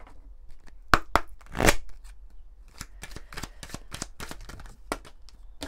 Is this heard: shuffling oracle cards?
yes